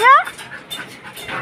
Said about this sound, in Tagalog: Ay, ingay ng aso.